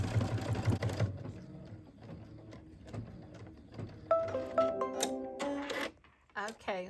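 An embroidery sewing machine stitches a placement line in quick, rhythmic bursts, the needle chatter stopping and starting, with someone talking over it and a few tonal beeps near the end.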